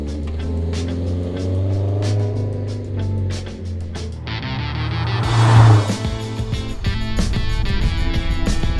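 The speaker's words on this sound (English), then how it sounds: "I don't think I've ever heard a 500 horsepower car this quiet." A 500-horsepower Subaru STI engine idles low, smooth and quiet, then a short rev swells and settles into a deeper, busier rumble.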